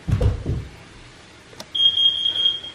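A few dull knocks, a pause, then a smoke alarm sounds a loud, shrill, continuous high-pitched tone nearby.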